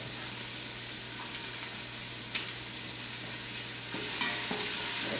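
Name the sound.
onions sizzling in frying pan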